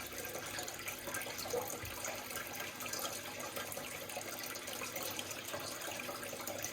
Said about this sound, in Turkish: Bu test kitin arkadaşlar dediğim gibi suyun içinde bu şekilde biraz gezdiriyoruz